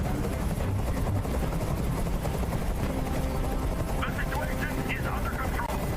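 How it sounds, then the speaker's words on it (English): Helicopter rotor noise from the video game Detroit: Become Human, a loud, steady thumping wash that fills the whole scene beneath a dense mix of other game sounds, with voices talking over it. "I can't stand that noise anymore. Tell that helicopter to get out of here."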